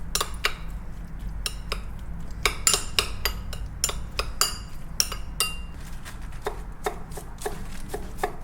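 Spicy mayo being stirred together with scallion and masago for sushi tacos, a steady run of sharp utensil clinks and scrapes against a bowl, close and fairly loud, with no talking.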